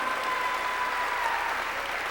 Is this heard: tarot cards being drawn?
no